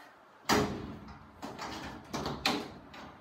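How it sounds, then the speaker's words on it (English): Metal doors of a DIY UV-C sanitizing cabinet swing shut, giving a sharp clunk followed by a few softer knocks and a final bump as they latch, close and fairly loud. "close the doors."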